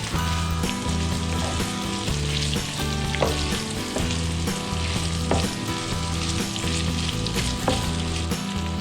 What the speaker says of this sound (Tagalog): inauna ko nga dito ginisa yung pork ng ating gagawin Bicol Express